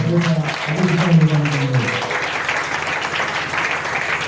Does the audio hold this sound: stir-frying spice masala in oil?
no